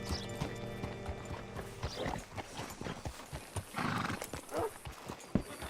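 Horse hooves clip-clop steadily in Red Dead Redemption 2 video game, with a horse's neigh and snorting amid rustling ambient noise, fairly close and moderately loud.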